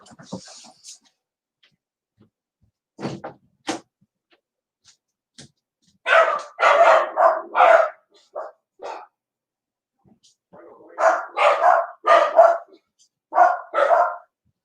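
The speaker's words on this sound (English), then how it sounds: "Oh, I woke the dogs." Several dogs in a home bark loudly in repeated bursts, a few quick barks early on, then two sustained runs of rapid barking close by.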